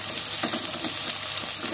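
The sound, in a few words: sautéing shallots and garlic in a pan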